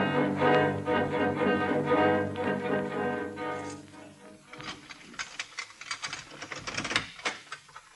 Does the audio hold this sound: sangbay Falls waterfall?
no